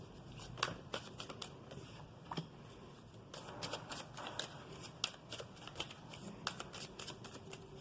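Oracle cards are shuffled by hand in quick, crisp riffling bursts, close and fairly loud, repeating with brief pauses and no talking.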